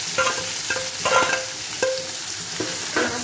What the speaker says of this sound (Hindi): यहाँ ये तेल गर्म हो चुका है, यहाँ मैं सारे पनीर को फ्राई करूँगी।